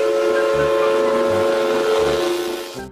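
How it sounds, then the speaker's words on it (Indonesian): A steady, shrill Thomas toy train whistle blows continuously with a breathy hiss, accompanied by a soft rhythmic chugging underneath, fading out at the end. "Widiu, lihat teman-teman, ada kereta Thomas."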